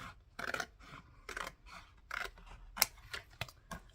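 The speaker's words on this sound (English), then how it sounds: "and use scissors" Several crisp scissor snips cutting paper, short irregular bursts close up, separated by brief pauses in a quiet room.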